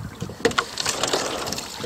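Oars work a rowboat across Silver Lake, with a few soft splashes and knocks spaced through the stroke over steady wind and water noise, near and fairly quiet.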